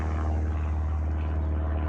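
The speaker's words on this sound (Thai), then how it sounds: "นู่นเครื่องร่อนนะคะ อันนี้เป็นเครื่องบินเล็ก" A small propeller plane flying overhead above a backyard garden in England, a steady droning engine hum that stays loud and constant throughout with no voices.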